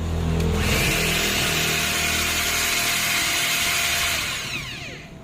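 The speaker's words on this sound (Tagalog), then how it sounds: "Tapos yung grinder nyo po." A Makita 18V grinder is test run, giving a loud, steady high-pitched motor whir close by for several seconds before it begins to wind down at the end.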